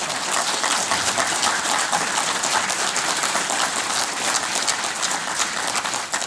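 An audience applauds to welcome a speaker at a National Park Service winter lecture in Gettysburg, with dense, steady clapping filling the room from start to finish.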